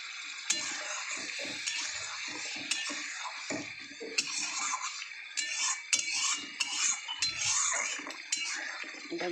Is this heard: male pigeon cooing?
no